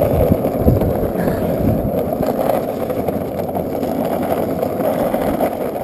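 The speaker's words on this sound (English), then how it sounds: "I wonder if you can even hear this over the rattle of the skateboard." Skateboard wheels rattle and roar continuously while riding, a steady close rumbling drone with rough grit throughout and no pauses.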